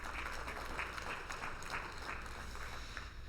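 At the FIFA Women's Football Symposium, an audience claps in a steady, continuous round of applause that sounds faint and distant throughout.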